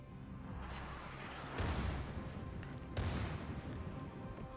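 Battleship guns fire in a naval video game, two heavy booming salvos about a second and a half apart, loud and sharp over a steady rumbling background.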